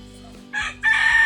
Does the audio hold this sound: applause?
no